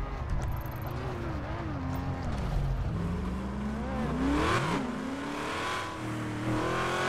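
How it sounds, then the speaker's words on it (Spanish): Engine of a car in a GTA RP street-racing game revs and shifts through rising and falling pitches, moderately loud and continuous, with occasional game effects. "Tiene goma el carro."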